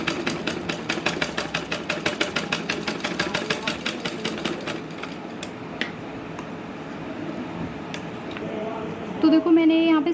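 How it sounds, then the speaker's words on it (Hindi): A sewing machine runs a stitch along a folded strip for an embroidered blouse, its needle ticking in a fast even rhythm up close for about five seconds before slowing and settling into a quieter hum. "अभी पहले मैं यहाँ पे एक सिलाई लगा लेती हूँ यहाँ पे।"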